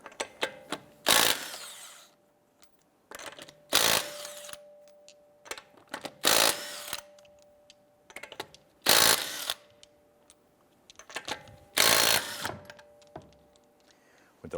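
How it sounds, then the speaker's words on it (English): Lug nuts come off a Toyota Camry wheel with a 19mm socket, the tool whirring in five or six bursts separated by short pauses and small metallic clicks, close and loud. "I'm going to go ahead and remove our lug nuts."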